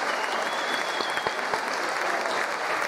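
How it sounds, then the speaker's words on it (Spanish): An audience applauds the Banda Municipal de Música de Punta Llana at a Santa Cecilia awards ceremony, with continuous, even clapping from many hands throughout, moderately distant and without speech. "Más fuertes aplausos, ahí están todos los de la Banda Municipal de Música de Punta Llana."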